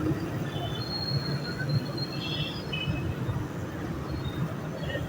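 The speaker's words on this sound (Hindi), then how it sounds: "ये है मेट्रो स्टेशन," A metro train at an elevated station in Rawalpindi rumbles on continuously, with faint high wheel squeals drifting over the steady rolling noise.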